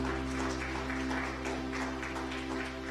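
A church congregation applauds at the close of a Spanish-language service, producing a steady, moderately loud patter of many hands over a low continuous hum, with no talking.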